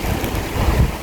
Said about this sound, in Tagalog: sobrang lakas ng hangin po